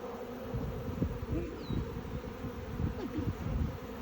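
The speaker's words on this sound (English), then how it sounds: "there's a bunch of bees in there" Honeybees buzz in a dense, steady hum, a swarm close by with no voices.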